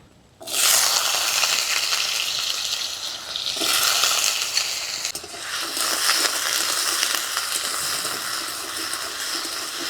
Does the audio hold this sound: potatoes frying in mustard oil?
yes